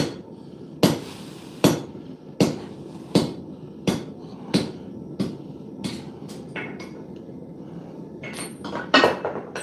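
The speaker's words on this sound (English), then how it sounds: "See if I can cut cold steel again. This does hell to my hot cut hardy" A hammer striking cold steel over a hot cut hardy on an anvil while forging graver blanks: about a dozen sharp, loud metallic blows at a steady rhythm, each ringing briefly, with a quicker cluster near the end.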